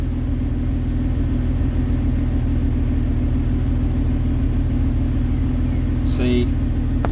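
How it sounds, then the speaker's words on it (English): A car engine idling smoothly while the radiator fan setup is checked, a steady close rumble with a low hum throughout, a brief squeaky sweep near the end. "Idling away happily."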